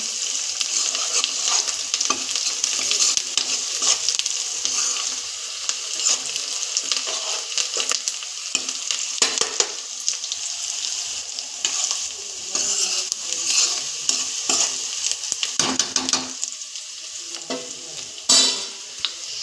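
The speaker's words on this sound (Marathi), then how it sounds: "आता आपण हे झाकण काढूया। चांगलं परतून घेऊया।" Red amaranth greens, cooked Konkan style with green chilli, sizzle and crackle in a pan while being stirred, a continuous close frying hiss broken by occasional scrapes of a spatula, with no talking.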